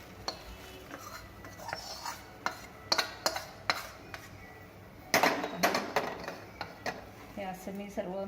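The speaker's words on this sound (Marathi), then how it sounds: "हे असं मी सर्व मिक्स करून घेते" A chivda snack mix being stirred together in a pan or bowl, with irregular light rattling clinks and scrapes in small bursts, close and fairly faint, while someone talks throughout.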